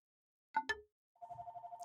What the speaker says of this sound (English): Oh, the phone rang.